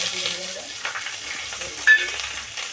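Cumin seeds and asafoetida tempering in hot oil for a date curry, a steady close sizzle with a faint stir and one brief click, no talk.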